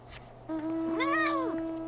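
The Fat Cat in Final Fantasy XIV gives one clear, drawn-out meow that rises and falls, sounding close over a faint game background hum.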